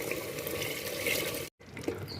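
Rinse water from a masala mixer jar is poured into simmering mutton gravy in a steady, close, splashing stream that stops briefly, then resumes more softly.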